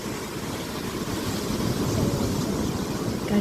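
Sea waves at Dhariz beach in Salalah make a steady, dense roar that swells slightly. Wind buffets the microphone, and no voices are heard.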